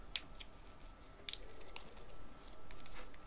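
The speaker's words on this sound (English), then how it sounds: "You can hear the little clicking of petals." Paper flower petals crinkle and click against each other while a lantern box is crafted by hand, giving a few soft, close crackles scattered through near-quiet.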